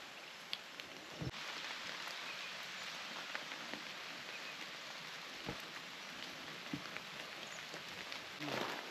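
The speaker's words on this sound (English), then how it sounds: "Rain out, umbrella out." Rain falls steadily on the Buffalo River Trail during a hike, a soft continuous patter with a few sharper drops and rustles nearby, quiet and without talk.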